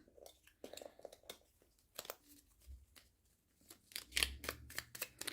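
Papery riffling and soft slaps of a pocket tarot deck being shuffled close by, in several quick bursts with brief pauses between them.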